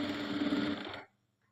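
A sewing machine stitches fabric in a brief close whirring run lasting about a second, then stops, leaving near silence.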